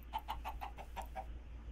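Chickens cluck in the video game Minecraft, about seven short, evenly spaced clucks in quick succession over a low steady hum, then quiet.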